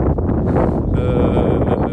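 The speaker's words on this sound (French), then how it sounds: "Il y a un vent de face léger." Steady light headwind buffets the microphone with a low, rumbling roar, continuous and close, with no clear voices, on a golf course.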